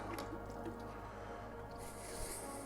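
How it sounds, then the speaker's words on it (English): An auto siphon carries mead from one jar to another, giving soft wet squishing and gurgling over a steady hiss, with faint drips and a brighter hiss near the end. "I don't even have to touch it. Does it on its own. Auto siphon."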